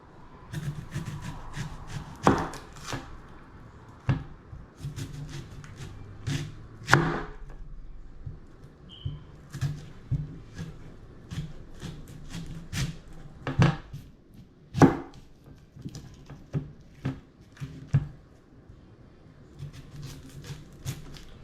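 A knife slices a very large onion into rings on a board, giving sparse, irregular crisp chops and taps close by against a quiet room.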